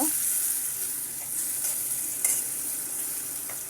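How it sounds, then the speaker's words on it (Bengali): A hilsa fish head sizzles steadily as it fries and gets stirred in a pan, with a continuous hiss and occasional soft scraping. "এখন আমি দিয়ে দিব ইলিশ মাছের মাথা লেস দিয়ে আমি একটু নাড়িয়ে নেব"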